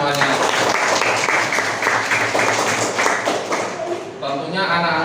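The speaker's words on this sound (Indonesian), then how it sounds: "Tepuk tangan untuk kalian semuanya." A class of children claps for classmates moving up from grade 4 to grade 5, brisk and close, with chatter underneath and a brief dip near the end.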